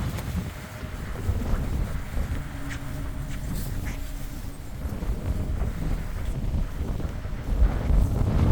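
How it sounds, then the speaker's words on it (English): Strong wind from a 120 mph windstorm in Los Angeles buffets the microphone in continuous rumbling gusts, loud and close, with faint rattling debris in the background. "I don't know if you can even hear me with this wind picking up"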